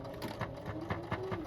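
Sewing machine back stitching the start of a half-inch pillowcase seam at the top of the cuff, a rapid rhythmic mechanical stitching run with regular pulses, close and steady throughout.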